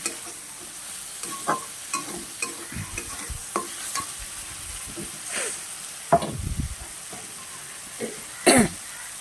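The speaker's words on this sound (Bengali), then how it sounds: "ভালোভাবে নাড়াচাড়া দিয়ে নিতে হবে। অলরেডি তলায় লেগে গেলে হবে না" Potatoes frying in oil in a pan for a vegetarian aloo dum are stirred with irregular scrapes and knocks over a low, steady sizzle, close by with no talking.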